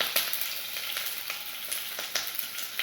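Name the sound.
shallots and dried red chilli sautéing in oil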